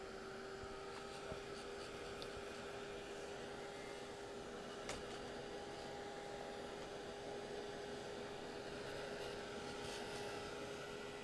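A hair dryer runs steadily throughout, drying a freshly painted country kitchen piece before sanding, with a constant motor whir and a faint hum, loud and close with no break.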